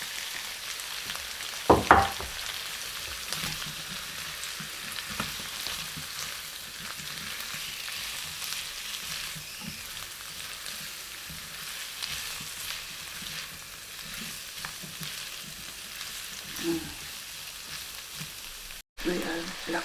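Chicken pieces fry in a hot pan for a pepper chicken and broccoli dish, a steady close sizzle that runs throughout. A sharp clatter comes early, then the hiss continues evenly with no talking.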